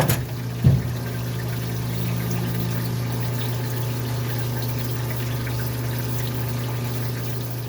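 Water runs steadily into the inside of a part from a 1983 Mercedes 300CD as it is rinsed clean, with a constant hiss and a low pump-like hum after a brief knock at the start.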